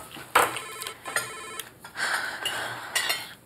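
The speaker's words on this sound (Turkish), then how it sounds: "Telefon." A telephone rings indoors with a few short bursts of electronic tones and brief clatter, moderately quiet and with no talk over it.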